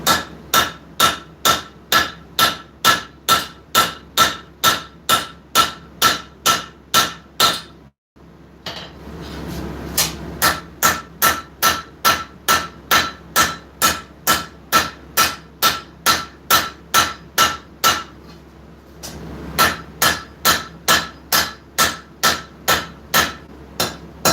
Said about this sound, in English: take a blow onto your anvil right there.